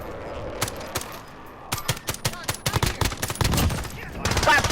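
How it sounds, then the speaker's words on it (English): A semi-automatic assault rifle fires in a battle-royale shooter game. Rapid single shots come in quick irregular bursts, loud and close, with sharp cracks packed tightly together toward the end. "It was semi-auto fire, not fully auto."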